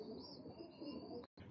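Royal Teddy pigeons coo in a cage in Faisalabad, with soft low burbling calls over a steady background hiss. The sound runs continuously and drops out briefly just before the end.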